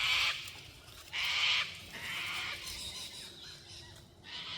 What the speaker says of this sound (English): these birds this afternoon are loud